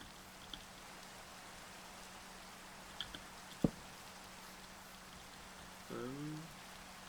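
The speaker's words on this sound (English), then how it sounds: "I can't believe it's just started raining" Light rain patters steadily in Minecraft, a faint, soft hiss with a few small clicks and a brief burst of game sound near the end.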